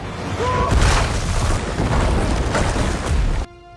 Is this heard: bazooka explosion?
yes